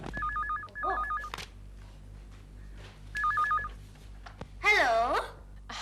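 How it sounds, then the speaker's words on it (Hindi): A telephone in a Hindi sitcom home gives short rapid electronic ringing bursts twice, separated by pauses. A voice talks in between. "डैडी, फोन उठाओ।"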